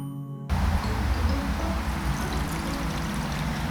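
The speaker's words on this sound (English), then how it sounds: "Straining out the ginger particles of the grated ginger, just so that we can taste test this Switchel." Homemade 18th-century-style switchel being strained to remove grated ginger particles, a steady close liquid pour and trickle starting half a second in and running continuously, fairly loud, with no talk.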